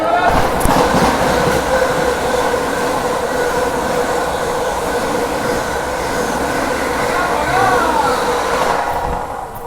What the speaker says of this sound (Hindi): सामने से आ रही है 22-4-25 अयोध्या आनंद विहार टर्मिनल वंदे भारत एक्सप्रेस।